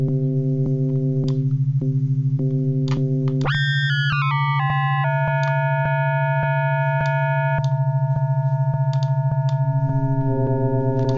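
An Ableton Operator FM synth bass, distorted and pitched up, plays a thick, buzzy sustained line that jumps between notes over a constant low drone and a steady tick.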